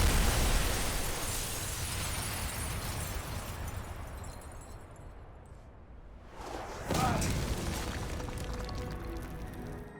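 A tactical explosion in the video game Prototype: a loud broadband blast that decays over several seconds, then a second burst of debris and rumble follows, with no talk.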